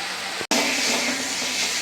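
Slit green chillies tossed into a hot pan of oil burst into a loud, steady sizzling hiss after a brief break, continuing alone without talk.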